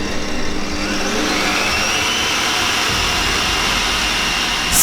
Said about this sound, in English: So my mixer was ready, so I just put this in and I was mixing till I got stiff peak.